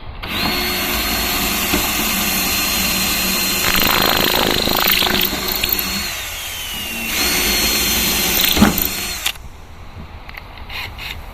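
A power drill whirs continuously at close range, pitch dropping and rising as it runs, with a short break midway before stopping abruptly.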